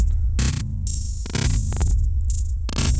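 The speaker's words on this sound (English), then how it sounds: "you're already hearing a much glitchier sound" A glitchy, looping synth drone with a heavy low hum, cut by abrupt bursts of harsh, bright static that stutter on and off in a choppy rhythm.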